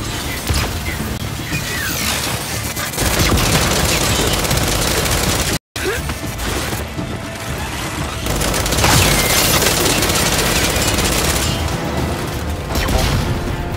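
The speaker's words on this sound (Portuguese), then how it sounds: "Lançando granada de fragmentação!" Frag grenade explosions and dense automatic gunfire from Gears 5 on Insane difficulty keep up a loud, continuous barrage with heavy booms, cut by a brief dropout near the middle.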